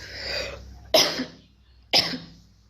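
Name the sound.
coughing from pollution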